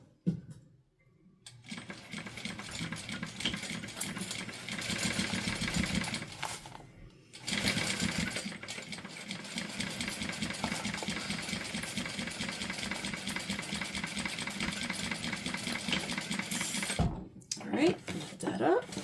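A sewing machine runs in long, rapid stitching bursts while sewing a quarter-inch seam with backstitching at start and end, buzzing close and steady with brief pauses between runs and a voice talking over it.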